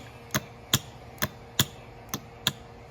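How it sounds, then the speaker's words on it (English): A 1981-1985 Mercedes cruise control actuator on a test bench clicks sharply as its solenoid is powered, six crisp, evenly spaced snaps, close up with no talking. "Listen to how strong that solenoid sound is."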